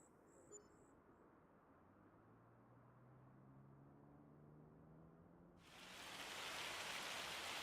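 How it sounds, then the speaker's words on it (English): Rain falls steadily in a Farm Sim video game, a soft even hiss that swells noticeably louder and brighter toward the end, with a low tone sliding underneath. "Of course it's raining."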